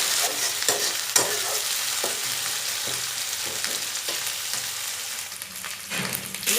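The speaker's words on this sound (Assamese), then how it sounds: "আৰু অকণমান দেৰি ভাজিছোঁ" Onions and garlic fry in a pan for an Assamese rohu fish curry, a continuous close sizzle punctuated by several sharp scraping stirs spaced a second or so apart.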